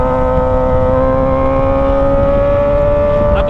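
Kawasaki ZX25R motorcycle fitted with a Toce aftermarket exhaust cruising at speed after a spark plug change, a steady high-pitched four-cylinder whine holding close and loud throughout.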